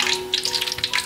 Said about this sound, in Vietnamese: Bánh á giờ mình chiên nó vàng rồi nè các bạn,